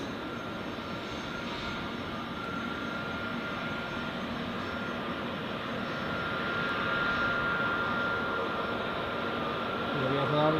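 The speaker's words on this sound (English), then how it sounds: "Here we have another Swiss A321neo." A Swiss A321neo jet at Zurich Airport, a steady moderate engine rumble with a faint high whine, swelling slightly toward the end, with voices faintly under it.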